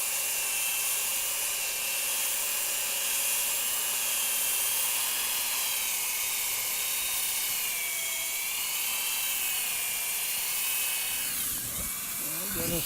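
Wooden bowl spinning on a lathe while being sanded, giving a steady, continuous high-pitched whirring hum throughout, close and loud, with a brief shift in tone near the end as pressure slows the bowl.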